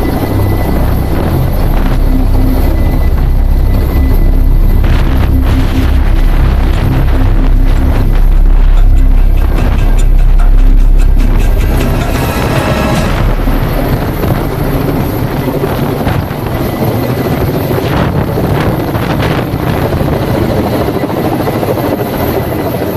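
A firefighting helicopter hovers about 15 metres above the ground during a rescue drill, its loud rotor and engine roar steady and close throughout, with strong wind buffeting the microphone.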